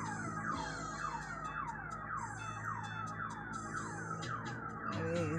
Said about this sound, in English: Somebody must have tripped the alarm.